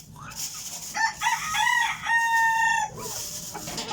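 A rooster crows loudly and close by, one long call, with hens clucking softly around it.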